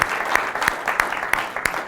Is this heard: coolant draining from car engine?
no